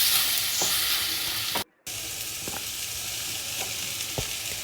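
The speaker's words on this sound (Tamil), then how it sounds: "இப்போ நம்ம கழுவி வச்சுருந்த அந்த சிக்கனையும் வந்து அதில் போட்டு நல்லா கிண்டி விடணும்" Washed chicken pieces sizzle and fry in a pan for a homemade Tamil-style chicken gravy, a steady close-up crackle broken by a few scraping stirs of a spoon and one brief cut in the sound.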